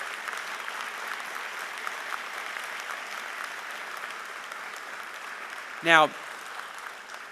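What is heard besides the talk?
audience applause at a medical school graduation ceremony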